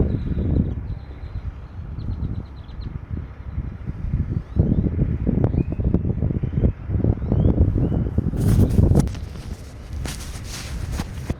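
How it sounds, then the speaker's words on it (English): Wind buffeting a Hollyland Lark M2S wireless microphone outdoors, a continuous heavy low rumble with gusts swelling and easing, and a brief harsher burst of noise near the end. "This is a wind test for the M2S."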